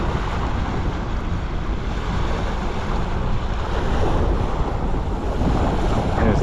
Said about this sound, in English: She's just beautifully ploughing her way through the water.